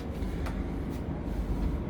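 Old night train running from Hanoi to Sapa in Vietnam, a steady low rumble and rattle of the carriage on the rails throughout, with faint clanks over the constant drone.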